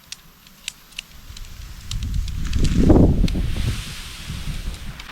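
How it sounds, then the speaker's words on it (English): Wind rising outdoors at a wild camp, swelling into a rushing gust that peaks midway and then eases, with a few light taps and clicks nearby. "Wind's getting up now."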